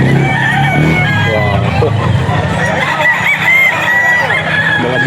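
Roosters and hens at the Bocaue pet market, including an SBR straight-breed gamefowl, crowing and clucking amid a busy outdoor din, with a man briefly exclaiming over the birds.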